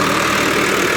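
A tractor engine runs steadily at raised rpm while parked, a loud, continuous mechanical drone with a faint rhythmic knock underneath.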